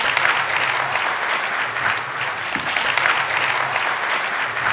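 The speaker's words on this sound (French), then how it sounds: "je vous demande d'applaudir très très fort" An audience applauds loudly for a technical committee member at a Malian awards gala, sustained dense clapping throughout, steady and enthusiastic without a break.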